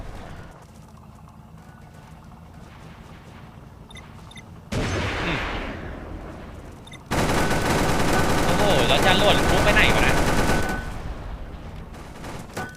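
Sustained bursts of automatic gunfire from an anti-aircraft Humvee M1038 in the tank game Clash of Panzer, starting faint, then jumping to loud continuous firing that holds for several seconds before easing off.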